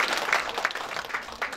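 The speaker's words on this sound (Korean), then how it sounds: "우리 다시 한번 큰 격려의 박수 부탁드리겠습니다." Audience applause at a Korean–Japanese friendship song contest, dense steady clapping from a hall crowd, fairly loud and continuous with small swells throughout.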